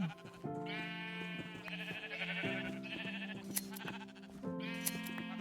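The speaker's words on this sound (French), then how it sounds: "Ah, tu tues pas mes beaux moutons." Video-game sheep bleat repeatedly and fairly loudly over about five seconds, with overlapping calls starting and stopping in uneven bursts and no speech.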